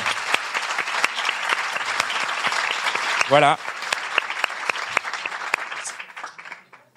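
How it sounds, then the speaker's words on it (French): A live audience applauds loudly and steadily at a farewell stage show, many hands clapping close by, with a brief spoken word from the stage partway through before the clapping trails off near the end. "un gros tonnerre d'applaudissements"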